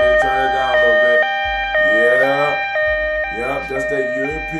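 A European-style two-tone alarm sound effect cycles through its alternating steady tones, loud and continuous, while someone talks over it.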